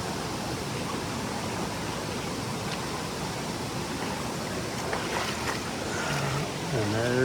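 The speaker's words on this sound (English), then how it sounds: "You don't want to mess up here though, because you'd be going over that waterfall." Steady rushing water fills the background, a broad even roar from a nearby waterfall in the 100 Mile Wilderness on the Appalachian Trail, with a voice briefly heard near the end.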